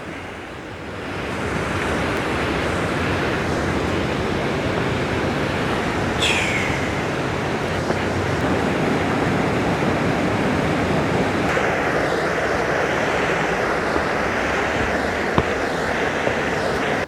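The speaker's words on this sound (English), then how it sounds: "There's your small kind of rapids or whatever." Rushing water from small rapids on a coastal walk near Boscastle, a dense continuous roar close by, with wind buffeting the microphone and a faint bird chirp partway through.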